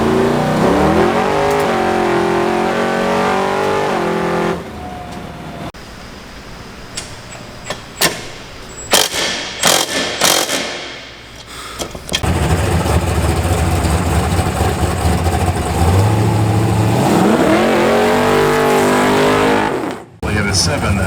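A Chevy II with an Olde English motor, heading for the drag strip, cruises with loud engine revving that rises and falls across the run. Voices talk over parts of it.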